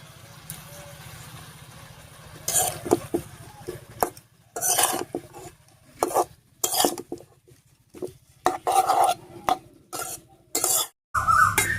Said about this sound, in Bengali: লবণ হলুদ দিয়ে খুব ভালো করে মিশিয়ে নিয়েছি